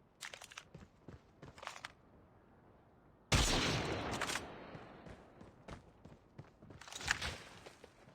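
Sniper gunfire in Call of Duty Mobile, a sudden loud crack followed by a sustained burst of shooting, with scattered sharp game sounds before and after.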